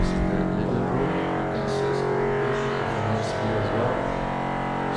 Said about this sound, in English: Sorry for the noise, they are working on a hotel.